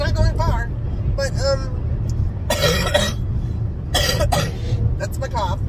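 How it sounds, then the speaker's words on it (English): A driver coughs a few times inside a car while it moves through traffic, the bursts loud and close over steady road and engine hum, with brief stretches of talk between them. "that's my cough"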